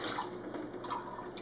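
Water drains off cashew nuts soaked overnight in filtered water, a faint, close trickle and splash with small drips over a quiet room.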